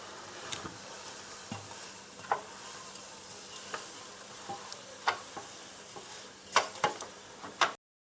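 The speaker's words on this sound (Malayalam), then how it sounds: "ഈ പൊടികളൊക്കെ ഇട്ട് കഴിഞ്ഞിട്ട് നമുക്ക് ഒന്ന് ഇളക്കി കൊടുക്കാം" Chicken coated in spice powders is stirred in a frying pan, giving a faint, steady sizzle broken by scattered scraping clicks of the spoon that grow a little sharper toward the end.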